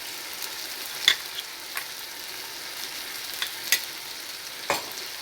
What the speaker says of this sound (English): To remove raw smell we need to cook this one also for 5 minutes.